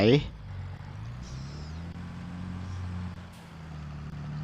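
A tractor engine in the farming video game Farming Simulator 23 drones steadily at low pitch, continuous and moderately loud, with a faint higher whine passing over it.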